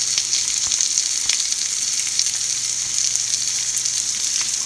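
Eggs fry in a pan over low flame with chili powder and pepper powder, giving a steady, close, dense sizzle with a few faint ticks and pops and no pauses.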